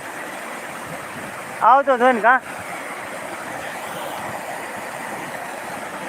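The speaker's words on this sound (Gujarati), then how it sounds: "પાણીનો અવાજ આવતો છે ને" Rainwater flows and rushes through a village after the rain, a steady wash of moving water with a short burst of a voice speaking over it partway through.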